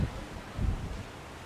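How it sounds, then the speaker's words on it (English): Gusty wind on an Upper West Side street on a stormy, cold autumn day, buffeting the microphone in low rumbling bursts, with one stronger gust in the middle and no talk. "It's so windy."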